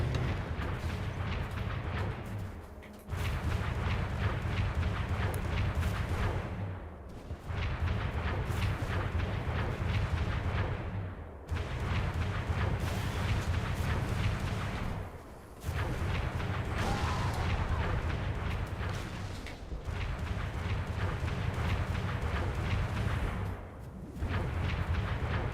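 In a video game, grenade explosions and blasts form a dense, loud, roaring barrage that runs on in long bursts, broken by several brief drops in sound.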